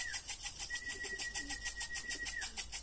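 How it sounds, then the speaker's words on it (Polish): A young racing pigeon returning at the end of a race gives soft, throaty cooing close by, along with a thin sustained whistle-like tone and a faint low rumble underneath. "Prawdopodobnie będzie to pierwszy gołąb."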